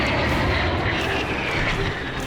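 A jet roars past overhead at a Fleet Week airshow, a loud, continuous, broad engine rumble that thins slightly as it moves away.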